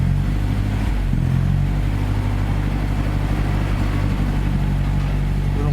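A BMW 318i engine runs at part throttle as the pedal is eased back, a loud steady low drone with a slight dip early on, close and continuous without talk.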